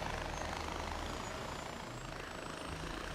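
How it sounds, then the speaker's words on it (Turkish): In the Far Cry 4 video game, a helicopter engine roars as a dense, steady rumble with whirring rotor noise, loud and constant throughout with no clear talking. "Helikopterle takip edecekmişiz."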